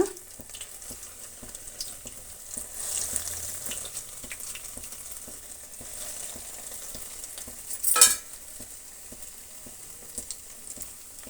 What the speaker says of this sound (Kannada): ಈಗ ನಾವು ಬ್ರೆಡ್ ಸ್ಲೈಸನ್ನು ಡೀಪ್ ಫ್ರೈ ಮಾಡ್ಕೊಂಬಿಡೋಣ